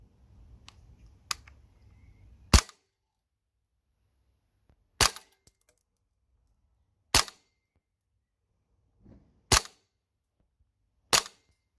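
Tokyo Marui USP airsoft pistol from the 2023 Resident Evil 4 Remake line, firing 0.25-gram BBs outdoors, five sharp single shots spaced a couple of seconds apart, crisp and close, with brief rustling before the first.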